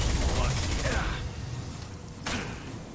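Gunfire in Mass Effect 2 directed at the player, a dense crackling fusillade up front then scattered impacts and a sharp burst, mixed with game effects and someone talking.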